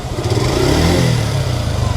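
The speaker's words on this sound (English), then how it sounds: "So let's see if the engine is still smooth" A Suzuki Gixxer SF motorcycle, about a year old, revs its engine close by in a single loud, smooth burst that rises and falls over a couple of seconds.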